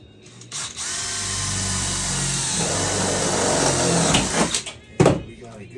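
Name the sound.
power drill drilling into Jeep Wrangler floor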